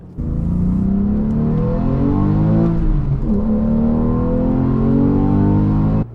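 A loud Porsche 911 (991 generation) engine revs hard and climbs steadily in pitch, dips briefly as it shifts, then keeps roaring high before cutting off.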